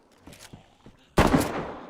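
A single loud, sharp gunshot in the video game DayZ with a booming tail rings out after a stretch of quiet clicks and soft mechanical handling noises.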